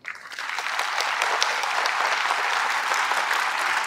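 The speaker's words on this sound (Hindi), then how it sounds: "अपने माता पिता का नाम लेके अपने मन में उनके लिए जोर से ताली बजा दो" An audience at a NEET PG motivational session in Delhi breaks into loud, sustained applause, a dense, steady clapping that swells within the first half second and holds.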